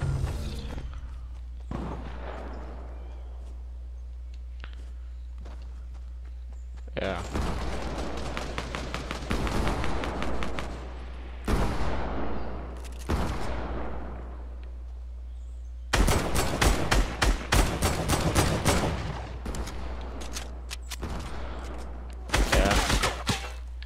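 Bursts of automatic gunfire in a multiplayer shooter game, several long rapid volleys of sharp cracks separated by near-silent gaps, loud and close with a low steady hum beneath.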